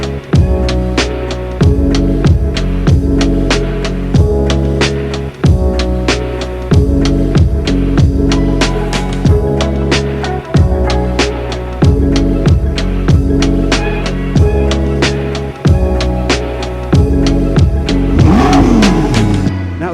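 A McLaren 650S sports car engine revs hard through repeated gear changes, each climb in pitch cut by a brief dip before pulling again, loud and close.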